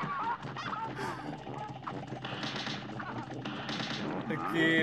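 Rapid gunfire and honking duck calls in the Cuphead video game, a busy burst of repeated shots over quacking and squawking game effects, loud and dense, with a voice talking briefly.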